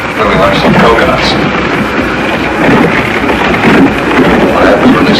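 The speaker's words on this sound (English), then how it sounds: "What happens when this storm blows over, Zach?" Thunderstorm in a hurricane drama, a dense roar of heavy rain and rumbling wind filling the scene, loud and continuous, with voices speaking over the storm.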